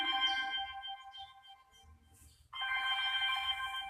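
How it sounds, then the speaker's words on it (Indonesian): A phone ringtone plays in two bursts of bright electronic tones separated by a short quieter gap, fairly faint. "telepon di sada deui. Kring kring"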